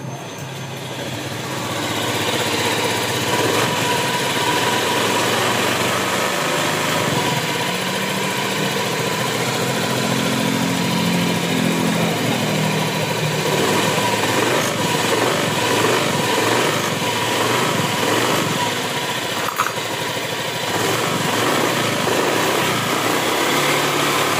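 A scooter engine with a noisy CVT area starts and settles into a steady idle, giving a continuous buzzing drone that stays fairly loud and even throughout, with no talk over it.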